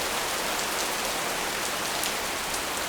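Heavy downpour during a thunderstorm: a dense, steady rain hiss fills the whole stretch at an even level, with no voices and no thunder.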